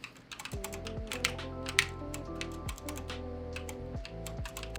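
Continuous brisk typing on a not fully mechanical gaming keyboard with Romer-G switches and 1.5 mm actuation, a dense run of close, crisp key clicks under a steady musical background.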